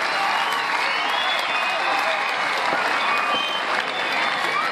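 A crowd applauds continuously to honour the country's soldiers; the clapping is dense and unbroken at an even level, with faint talk mixed in beneath it.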